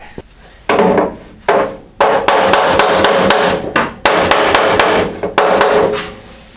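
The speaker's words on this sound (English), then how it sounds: "I gotta hammer that flange." A metal flange with a wonky spot is struck repeatedly with a hammer, loud ringing blows in quick irregular bursts, each hit leaving a brief clang, close by.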